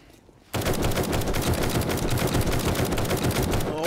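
Sustained rapid automatic gunfire in the survival game 7 Days To Die, loud and continuous after a quiet start, a steady stream of shots in an arcade-style joke mod.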